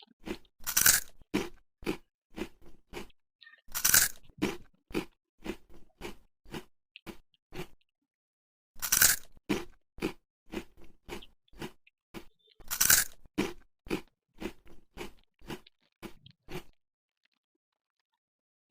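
Someone eats crunchy Cambodian-made sevati snack close to the microphone: loud crisp crunch bursts followed by rhythmic, rapid chewing in repeated bouts, with no talking.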